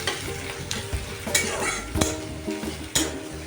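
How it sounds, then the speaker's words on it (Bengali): Onions and whole white cumin seeds fry in hot oil, a steady close sizzle broken by a spatula scraping and stirring the pan with several sharp metallic knocks. "এই যে পেঁয়াজটাকে দিয়ে দিয়েছি তেলে, আর সাদা গোটা জিরে ফোড়ন দিয়েছি"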